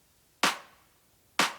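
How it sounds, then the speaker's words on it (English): Two sharp, bright clap hits from the original clap sample in a drum mix, spaced about a second apart, each with a short decaying tail and silence between them. "This is the original clap."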